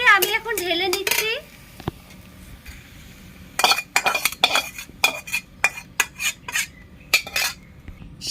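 Onions fried until red are tipped out of a pan, with sharp metallic clinks and scrapes of a utensil against the metal coming in irregular bursts. A high voice is heard briefly at the start.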